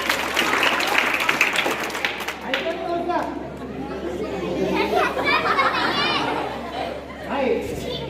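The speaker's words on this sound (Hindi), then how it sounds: "बजाओ इसके नाम पे ताली" Audience of children and adults clapping and chattering at a school science magic show, busy applause mixed with loud overlapping voices and kids' shouts throughout.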